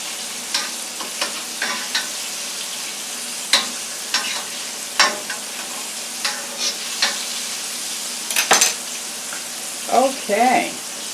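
Chicken pieces fry in oil in a frying pan for crispy fried chicken, a steady broadband sizzle with scattered sharp crackles and pops, plus a few brief clinks and scrapes near the end, with no talking.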